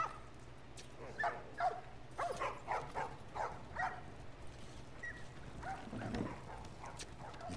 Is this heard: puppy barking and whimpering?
yes